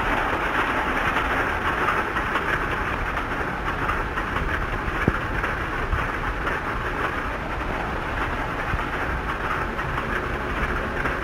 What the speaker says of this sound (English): On its single-line track, the gallant little train with its complement of passengers makes good progress.